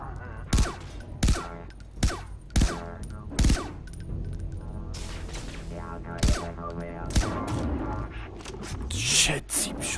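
Rapid gunfire bursts in the video game Far Cry 3: Blood Dragon, several sharp loud shots spread through the scene over continuous game sound, with someone talking.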